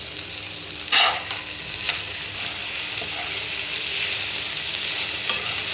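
Shrimp bhaji, a vegetable fry with a little shrimp, sizzles steadily in a pan, with a dense, continuous crackle and a few brief stirring scrapes near the start, close and alone.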